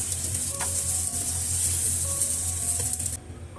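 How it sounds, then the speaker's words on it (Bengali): Eggplant slices frying in a pan give a dense, steady hiss of sizzling oil, with a few light clicks as the pieces are stirred and flipped, the sizzle easing slightly at the end. "বেগুন ভাজাটা হয়ে গিয়েছে, তো আমি সেগুলো একটু নেড়ে চেড়ে উল্টে পাল্টে দেন উঠিয়ে নিচ্ছি"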